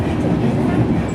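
A White Pass & Yukon Route Railroad scenic passenger train rolls between Skagway and Summit, heard from aboard as a loud, steady low rumble of wheels and car noise with faint rattles and a voice in the background.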